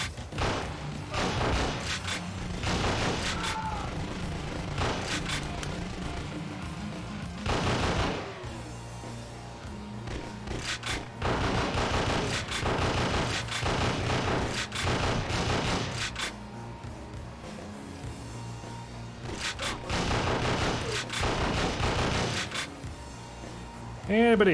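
Gunfire from a PS1/PS2 lightgun shooting game on real hardware: repeated bursts of loud, punchy shots and thuds in clusters with brief pauses, close and forceful, with a voice talking at times between the volleys.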